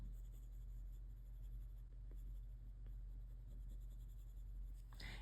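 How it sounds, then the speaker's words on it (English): A pencil shades on paper in small circular strokes, a soft, steady scratchy rubbing that is faint and close against a low background hum. "Now you'll notice I'm kind of doing a circle formation with my pencil, and that gives me a nice smooth shade."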